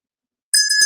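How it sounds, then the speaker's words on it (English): A small bell is rung once at a cancer survivors' honoring event, giving a bright, sustained metallic ring that starts suddenly after silence and holds steady to the end, close and clear with no talk over it. "I'll ring this bell for you, Dr. Justice, in your honor."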